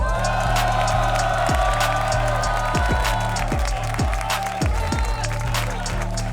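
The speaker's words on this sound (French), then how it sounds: "Merci de faire un tonnerre d'applaudissements" A crowd breaks into loud, sustained applause for a rapper at a Rap Contenders battle. The dense clapping runs unbroken over a booming, rhythmic backing beat.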